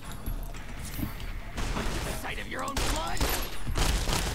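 Gunfire in the video game Fallout New Vegas, a dense burst of shots and thuds running steadily and loudly through the whole stretch, with game effects mixed in.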